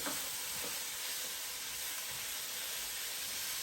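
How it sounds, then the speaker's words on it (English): Bacon sizzles in a pan on the stove as it fries for cabbage and sausage, a steady broadband crackle and hiss running unbroken and fairly quiet, with a few soft scrapes near the start. "I'm gonna put the bacon in right here. Put it in just like that. Let it just get nice and good. Let that cook for a minute."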